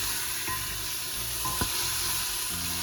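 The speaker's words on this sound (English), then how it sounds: "as our onions are sizzling" Chopped onions sizzle in a hot pan, a steady close hiss of frying with a couple of faint scrapes as a wooden spoon stirs them.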